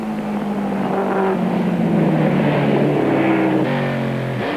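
V8 Opel Record race car at the Killarney circuit during a 1994 Wesbank Modifieds race, engine droning loudly and steadily with pitch shifts as it runs at speed, heard continuously without talk.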